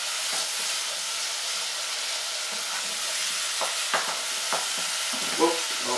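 Beef mince for nacho supreme fries in a pan with a constant bright hiss of sizzling and steam, broken by several dull knocks and scrapes of a spoon stirring, close and without talk.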